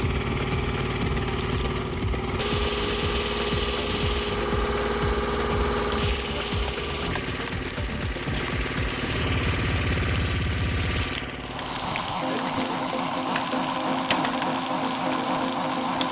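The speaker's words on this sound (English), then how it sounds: "The homemade log splitter showcases its superior capabilities. Its powerful engine roars, a mighty yet steady sound." A homemade log splitter's engine runs steadily and loud throughout, a continuous droning roar with a hydraulic pump-like whine, shifting in tone near the end as the load changes.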